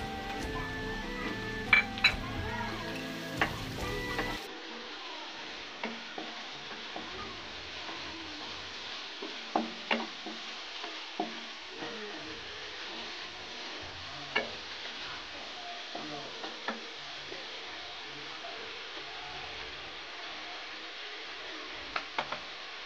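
Prawns sizzling in a pan for a pumpkin flower dish, with a steady frying hiss and scattered sharp clicks and scrapes of stirring; a different, busier sound briefly precedes the frying.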